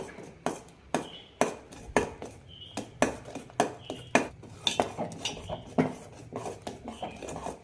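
A spoon stirs a spice mix of cumin, salt and chili powder in a bowl, clinking sharply against the sides in a quick, steady rhythm, close and alone.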